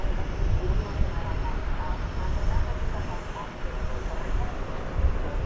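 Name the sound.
American Airlines Boeing 737-800 jet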